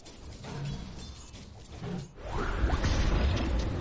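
A Dota 2 Vacuum ability fires in a pro playoff match between PSG.LGD and Team Spirit, a sudden rushing swirl of wind that swells after a brief dip and holds loud to the end amid dense game sounds.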